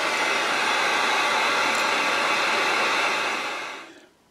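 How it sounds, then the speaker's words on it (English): A heat gun drying paint blows a steady, loud roar of hot air for about four seconds, then shuts off and fades away. "now we're gonna dry this real well with the heat gun"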